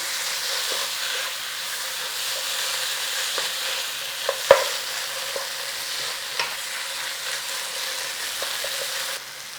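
A spoon stirs tomato puree into a chicken thigh and potato curry in a hot pan, with steady soft sizzling and occasional sharp scrapes and taps against the pan.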